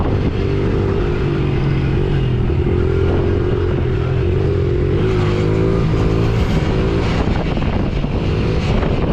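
Loud Honda CRF110 mini motorcycle engine running close by, with a harsh mechanical rattle and clatter from the front of the engine layered over its steady throb.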